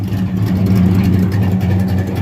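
Rebuilt 355 engine in a donk car running at high revs, a loud steady engine drone with strong low harmonic hum, close by and continuous.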